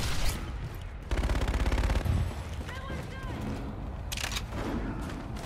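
Assault rifle fire in the Infinite Warfare beta shooter game, a rapid burst of automatic shots mixed with other game effects and explosions, loud and close.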